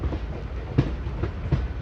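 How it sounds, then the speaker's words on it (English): A Hosur MEMU passenger train changes tracks onto the Hosur line, wheels thumping in clickety-clack beats over the points amid a steady rolling rumble heard from on board. "We are now changing tracks."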